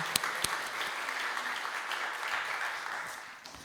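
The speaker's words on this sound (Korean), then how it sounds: "다시 한번 박수로 하나님의 영광을 올려드리겠습니다" A steady round of clapping from a church congregation in a reverberant room, a few sharp claps at the start, fading slightly toward the end.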